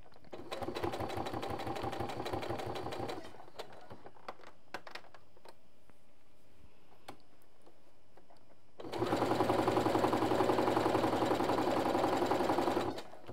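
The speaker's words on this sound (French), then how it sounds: "Donc on est parti pour la couture de manche." A sewing machine runs fast, stitching a sleeve seam on a Teddy bomber jacket. It makes two loud bursts of rapid, even needle chatter, separated by a quieter stretch of small clicks and fabric handling.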